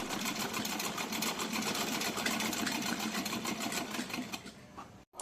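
A sewing machine stitches white lace along a cotton summer dress for a small deity figure, running steadily and fast at close range for about five seconds before stopping abruptly.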